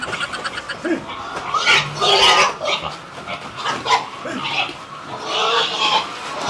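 Pigs grunting and squealing in a busy farm pen, several animals close by, with overlapping snorts and higher calls throughout.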